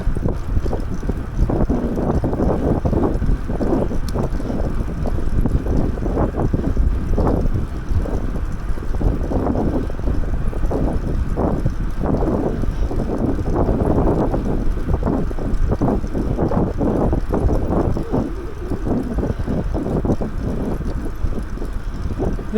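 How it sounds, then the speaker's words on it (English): Wind buffets a microphone during an e-bike ride along the ocean at Hervey Bay, Queensland, as continuous loud low rumbling gusts that swell and fade throughout. "I'd say we're getting the wind from the southeast, which comes off the ocean."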